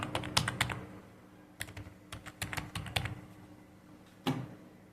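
Quick bursts of typing on a computer keyboard, a few rapid clusters of key clicks with short pauses between, close and fairly quiet, as a number is entered.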